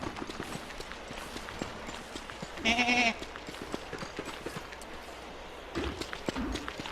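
A goat-like creature in the game Don't Starve lets out a short bleat amid ambient game noise and soft hoof-like clopping, with a second fainter call near the end.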